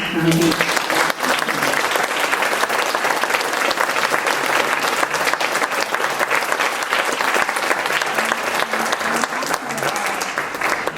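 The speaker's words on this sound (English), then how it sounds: "let's give her a round, warm of applause again to Natalie" Sustained, loud clapping from an audience at a literary reading fills the whole stretch, steady and dense without pause.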